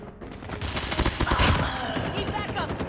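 Rapid bursts of Mythic AS VAL rifle fire in COD Mobile, a dense close-range fusillade of shots lasting nearly three seconds with a faint voice underneath.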